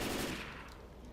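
Gunfire in Left 4 Dead 2 while shooting at zombies: a dense, loud burst of rapid shots lasting about a second, close and continuous, with no voices.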